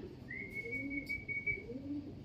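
Birds at a pigeon training site in San Jose, one long thin whistling call held over a low continuous background of cooing, at moderate distance with no speech.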